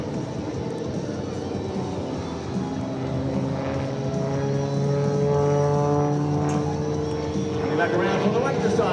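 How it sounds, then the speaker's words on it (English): Aerobatic airplane Prometheus flown by Skip Stewart at the Wings Over South Texas air show, its propeller engine droning loudly and steadily with rising pitch as speed builds, under an announcer's amplified commentary. "Prometheus is an amazing aircraft"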